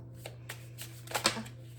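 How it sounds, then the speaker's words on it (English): A deck of cards being shuffled nearby, with a series of soft riffling bursts that build to a louder flurry near the end, over a steady low hum. "Let's do one more shuffle."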